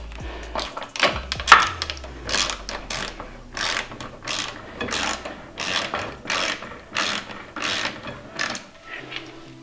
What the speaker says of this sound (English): Tighten the screws in the second round, but make sure the screws will be not too tight.